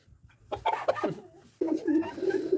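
A rooster, in the setting of a village yard, gives short clucking calls close by, two brief bursts of throaty fowl sounds.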